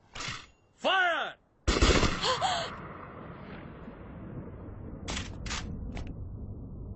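Gunfire rings out in a Hindi-dubbed Japanese anime film: a sharp, reverberant volley follows a brief strained vocal sound, then a lingering rumble and three more quick shots.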